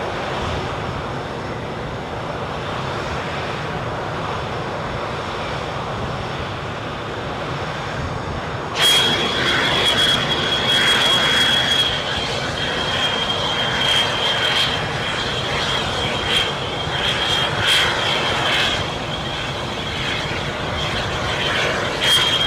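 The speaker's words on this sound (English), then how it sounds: "The noise off this aircraft just kind of drowning me." Aircraft engine noise at Edinburgh airport: a loud, steady roar that swells and sharpens at about nine seconds, when a high whine joins in and holds to the end.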